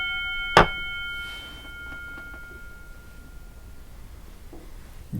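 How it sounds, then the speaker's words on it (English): A single bell struck once during a meditation practice gives a bright ring that fades slowly over several seconds in a quiet room. "I'm going to ring the bell."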